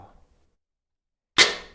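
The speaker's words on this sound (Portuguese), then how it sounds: "Ó, o naipe do canhão ali, ó." A cannon fires a single loud shot, a sudden sharp blast that decays over about half a second after a near-silent pause.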